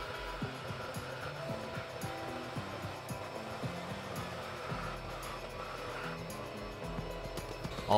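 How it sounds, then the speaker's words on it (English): Hot air gun of a JCD 8898 2-in-1 SMD rework soldering station, 750 W, blowing with a steady faint airy hiss, with tonal hum and clicks faint in the background. "the hot air gun does its job well"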